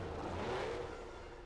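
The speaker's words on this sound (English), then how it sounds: "the cars howled up the hill" Engines of 1978 Formula 1 race cars climbing the hill at Monaco, a faint, distant rising whine with a brief pitch sweep, muffled and low in level.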